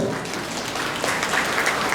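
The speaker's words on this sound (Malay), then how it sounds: "Beri tepukan" Applause from an audience at a school event in Sepang, a steady dense wash of clapping that holds at an even level throughout without speech.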